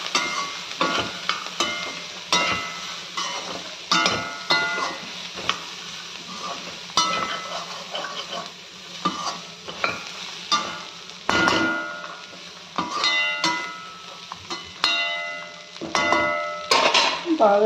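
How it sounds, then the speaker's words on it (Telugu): Chickpeas stirred with fresh coriander in a pan for a crunchy snack, giving repeated metallic scrapes and clinks of a spoon against the pan in an uneven rhythm over a soft sizzle, with no voices. "యాడ్ చేసుకున్న తర్వాత ఒకసారి బాగా కలుపుకోండి"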